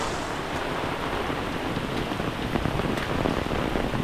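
Torrential monsoon rain in a Konkan village near Khed, Ratnagiri, drumming steadily and loudly on nearby surfaces with scattered sharper drop hits, alone and without voices.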